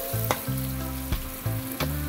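Onions fry in mustard oil for a country chicken curry, a loud close sizzle broken by repeated clacking stirs of a spatula against the pot, several strokes in quick succession with no speech.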